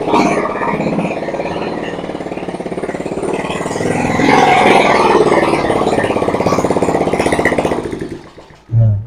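Yamaha Jupiter Z motorcycle engine running steadily after a clutch repair, a continuous mid-pitched drone that swells slightly midway and then drops off near the end with a short low thump.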